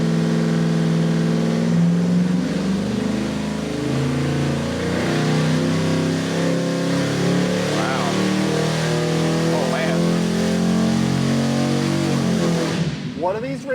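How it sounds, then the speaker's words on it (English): A 2023 Ford 7.3L Godzilla V8 pulls on a dyno with a loud, smooth, continuous climbing roar that holds for over ten seconds before easing off. "Godzilla running on the dyno, running great, running very smooth"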